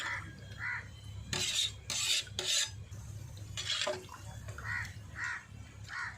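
Rice and water being stirred in a pot for chicken biryani, a few short scraping and sloshing strokes close by, with crows cawing faintly in the background outdoors.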